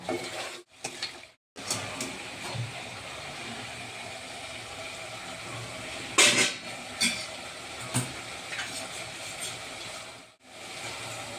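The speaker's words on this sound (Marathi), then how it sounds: "असा चांगला हलवून घ्यायचा" Chicken curry (chicken rassa) being stirred in a pan in a home kitchen, with soft scrapes and scattered light clinks of a spoon against metal over a low, steady background, plus a few sharper knocks.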